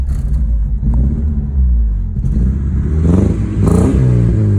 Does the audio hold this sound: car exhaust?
yes